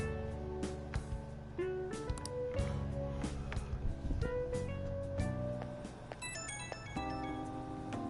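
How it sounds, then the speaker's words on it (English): A melodic phone ringtone from the game Persona 5 Royal plays for several seconds, with a bright repeating tune over a steady musical backing. The call is incoming and the ringing sounds clear and close. "And we get a phone call from her."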